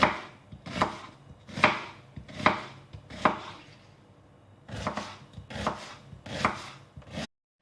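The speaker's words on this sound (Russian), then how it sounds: "Мелко нарезаем лук." A knife finely chops an onion rapidly on a cutting board in quick bursts of sharp, close taps, with a brief pause midway before the chopping resumes.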